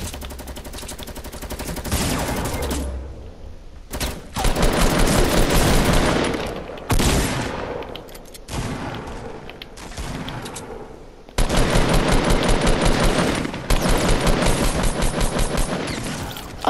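Video game gunfire rings out in heavy, near-continuous bursts of rapid automatic shots, loud and close, with a few brief pauses between volleys and no talking.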